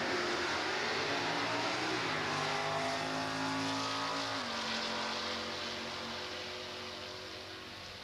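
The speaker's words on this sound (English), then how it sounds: "Here's a 69 Chevelle next up on the pit side, matching up with a Malibu." A 1969 Chevelle and a Malibu drag race cars run at a drag strip, a loud sustained engine roar with shifting revving pitch that gradually fades as they pull away.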